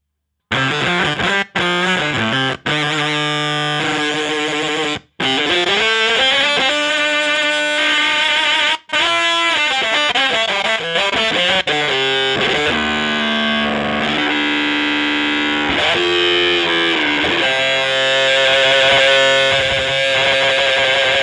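Harsh, buzzing distorted tones from a Gamechanger Audio Motor Pedal grind on continuously, loud and aggressive, with brief cutoffs and shifting pitch as the sound is modulated.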